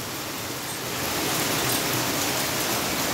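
A hailstorm pours down onto a balcony with flower pots in Ioannina, making a dense, steady hiss of countless impacts that swells slightly louder partway through, with no voices.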